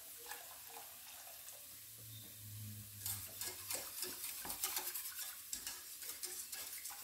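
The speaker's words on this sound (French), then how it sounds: "On rajoute encore du lait." Milk poured into a béchamel sauce on the stove while it is whisked: a soft liquid pour, then brisk, repeated stirring and scraping sounds in the pan, faint and close, with no talking.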